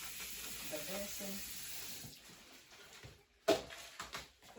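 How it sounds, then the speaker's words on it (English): Water splashes and runs into a sink basin as it is rinsed and emptied, with a steady close wash of flow that breaks into a few louder sloshes near the end. "I'll dump the water in the sink. I'm rinsing."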